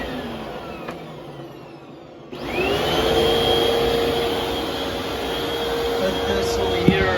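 After a brief quiet stretch, a TTI Hoover WindTunnel Plus upright vacuum switches on abruptly and runs at a steady, loud whine with a rushing airflow roar, close by and continuous.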